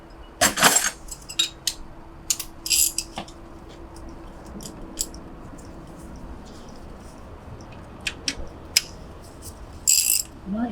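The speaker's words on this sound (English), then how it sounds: "We've got a socket, a ratchet fit on there now." A ratchet with a socket works on a bolt during cylinder head removal from a Mk2 Golf GTD engine, giving irregular metallic clicks and clinks in short bursts between quieter pauses.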